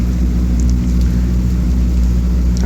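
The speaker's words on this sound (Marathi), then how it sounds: "इकडे असा पाऊस चाललेला आहे" Steady, dense rain falling with a constant hiss and low rumble in Shegaon, India, continuous throughout with no voices.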